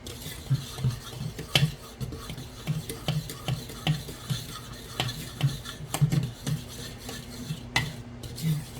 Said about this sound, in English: We're going to whisk all this together. That's our dry ingredients.